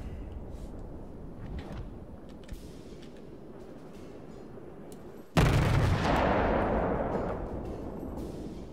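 Naval guns of the cruiser Yubari fire in the World of Warships game: a single heavy boom lands mid-clip and rolls into a long fading rumble, after quieter background battle ambience.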